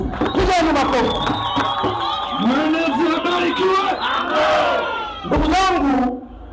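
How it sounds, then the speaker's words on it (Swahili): A political rally crowd for the ruling party responds with loud cheering and shouting, voices swelling together in bursts with a renewed surge near the end. "Pigeni makofi."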